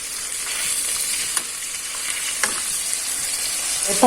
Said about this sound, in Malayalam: ചിക്കൻ പീസ് ഇട്ട് കൊടുക്കാം. ഇത് മൂത്ത് വരട്ടെ.